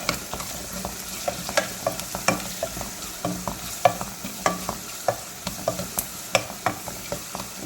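A tomato and green chili mixture for mutton liver curry is stirred in a hot pan, each regular scraping stroke clicking over a constant close sizzle, with no talk.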